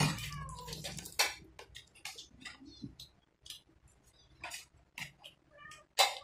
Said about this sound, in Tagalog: Ang daming pusa.